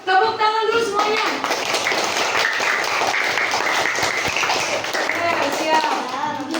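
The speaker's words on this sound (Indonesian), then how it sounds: "Tepuk tangan dulu semuanya." A group of children in a classroom claps hands together in a dense, continuous patter of claps, loud and close, with voices and chatter mixed in throughout.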